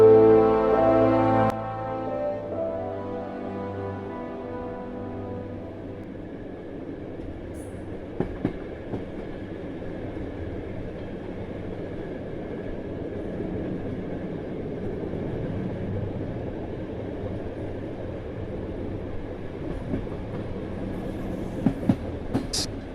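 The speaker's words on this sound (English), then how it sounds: "The train continued its slow, relentless journey" Train moving along rails, a steady rumbling roll with faint clicks and a few sharp squeals, opening with a louder tonal blast before settling into a continuous drone.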